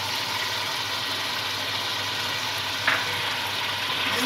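Masala for mutton biryani fries loudly in a pan, a dense and steady close sizzle with one brief clink partway through.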